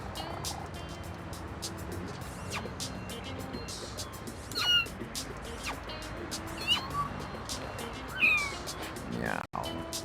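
In the video game No More Heroes, a cat gives several short meows over a constant background hum with a faint engine rumble, and a person talks in between.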